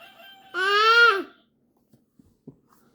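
A voice imitates a rooster crowing, one loud drawn-out yell that rises and falls, followed by a few faint clicks and small noises in near silence.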